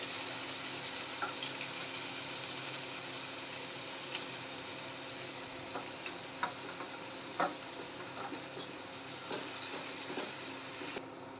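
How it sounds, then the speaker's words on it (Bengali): Cumin, coriander, turmeric and chilli fry in a pan over black cumin seeds and ginger paste, giving a steady, fairly quiet sizzle with a few sharp ticks and pops, no voices. "মশলাটা ভাজা হয়ে গেছে"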